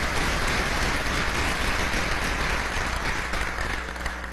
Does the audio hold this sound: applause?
yes